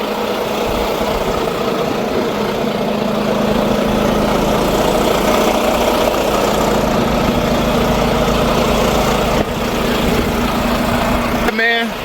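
The idling engine of a truck nicknamed Bumble Bee hums steadily at close range with a low, even rumble, and a brief rattling burst comes near the end.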